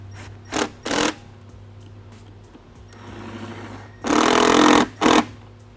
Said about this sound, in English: we can tighten our clamps